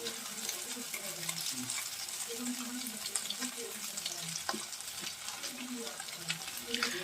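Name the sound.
lote fish frying in oil in a pan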